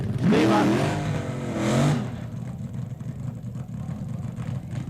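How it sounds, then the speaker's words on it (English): A funny car does a burnout at a drag strip at the 1971 NHRA Winternationals. A loud rising engine roar lasts about two seconds, then drops to a steady rumble of broad noise. "the funny cars will go up to the starting line and do burnouts from the starting line"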